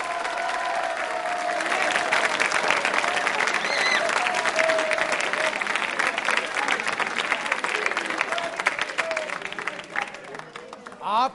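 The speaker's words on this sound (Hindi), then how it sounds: "तालियां जोरों से बजाइए संकल्प के लिए" A large audience at a Republic Day quiz show claps hard in a dense, sustained ovation that holds for several seconds before tapering off, with a voice faintly audible near the end.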